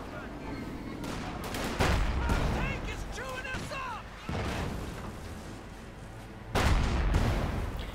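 In the World War II strategy game Company of Heroes 2, gunfire and artillery crackle through a battle with bursts of shots and heavy booms, while a caster's voice sits under the effects.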